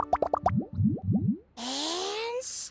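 In Genshin Impact, ingredients such as lizard tails, fish scales, mucus and slime condensate drop one after another into a cocktail, making a quick run of cartoonish bubbly plops, then a rising boing-like slide and a bright sparkly chime.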